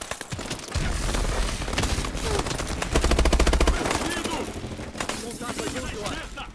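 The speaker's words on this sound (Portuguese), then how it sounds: "quem tá atirando, meu Deus?" Sustained automatic gunfire from the Call of Duty: Advanced Warfare campaign comes in rapid loud bursts with heavy low booms, dense and continuous through the middle and tapering into scattered shots, with a voice speaking over parts of it.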